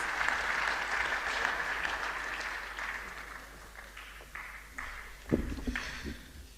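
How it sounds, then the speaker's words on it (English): An audience at a university postgraduate annual lecture applauds a speaker, a dense burst of clapping that thins and fades over several seconds, with a few louder thumps near the end. "A round of applause for him, please."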